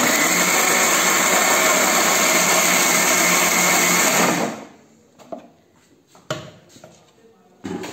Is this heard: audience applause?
no